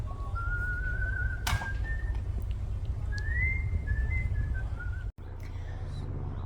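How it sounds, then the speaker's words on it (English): Someone whistles a wandering tune, thin and fairly distant, over a steady low engine-like hum. "This chap here is slowly going along, whistling his heart out and litter picking."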